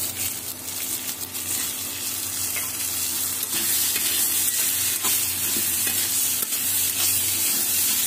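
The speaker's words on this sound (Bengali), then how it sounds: "শিমের বিচিগুলো ভালো করে কষিয়ে নিচ্ছি" Broad bean seeds sauté in a pan with a dense, continuous sizzle, broken by occasional scraping and knocking from stirring, close and fairly loud throughout.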